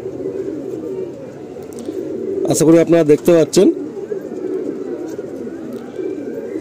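Pigeons in a loft of top-quality birds kept for sale coo in a steady, low, rolling murmur throughout, while someone speaks briefly over them midway.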